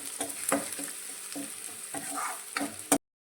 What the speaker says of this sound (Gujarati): ગેસની ફ્લેમ અત્યારે આપણે વધારે જ રાખીશું અને બધી જ વસ્તુને સારી રીતે સાંતળીશું